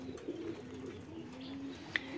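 Domestic pigeons perched in the open on a rooftop, some sitting on eggs, give soft low repeated coos over a quiet background, with a faint chirp near the end.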